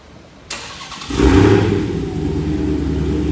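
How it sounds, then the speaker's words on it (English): A Dodge Hellcat's engine cranks and catches by remote start after a click, then settles into a loud, steady rumbling idle close by. "let's get that remote start. See what that thing gonna sound like."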